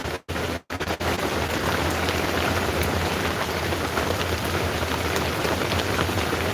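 Heavy rain beats steadily on a shelter in Alamance County, North Carolina, a dense, close, unbroken patter with a couple of brief dropouts at the start and no voices.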